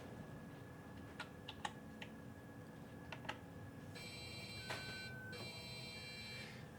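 Numbers are tapped into a keypad on a machine used for making a watch wheel, faint scattered clicks at an uneven pace followed by a steady electronic tone, all quiet and without speech.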